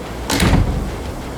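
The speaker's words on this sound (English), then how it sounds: "quickly shuts the door. The sound of several locks clicking into place can be heard from within." A door shuts in the video game Scarlet Hollow, a single close, loud thud with a brief rattle that quickly fades into a steady background hiss.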